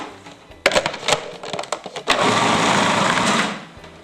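Electric mixer blending peanut butter and jelly truffle dough, with a few sharp scraping knocks against the bowl followed by a loud, steady whirring run of about a second and a half, close up and with no talking.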